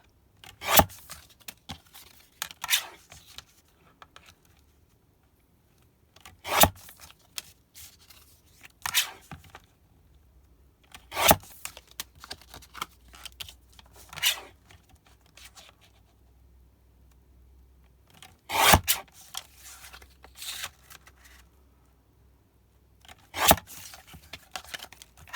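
Paper scraps being cut down to size with scissors, a handful of sharp, separate snips and rustles spaced out across a quiet room with long pauses between them.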